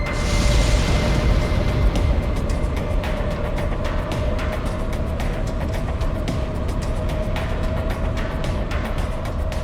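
A missile impact explosion in the video game Ace Combat X, heard as a loud, sustained booming rumble with crackling bursts throughout, steady and dense from start to finish with no speech over it.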